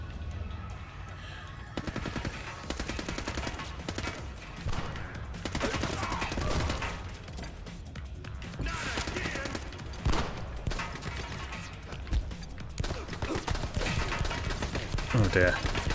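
Pistol shots in the Xbox 360 shooter The Club: repeated sharp reports over a busy, loud game soundscape with music and mechanical noise running throughout.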